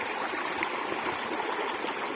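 Water pours steadily from a natural spring in a broad, constant rush that fills the whole clip without pause, loud and close with no voices.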